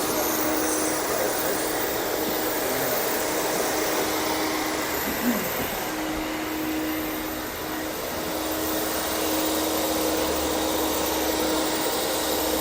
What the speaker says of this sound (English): I'm gonna vacuum it up with that.